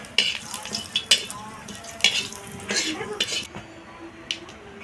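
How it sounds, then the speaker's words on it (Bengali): Bay leaf, dried chili and cumin sizzle in hot oil in a pan, a soft frying hiss broken by several sharp clinks of a utensil against the pan, close up. "ফোড়ন দিচ্ছি, দেখুন তেজপাতা, একটা শুকনো লঙ্কা আর জিরে।"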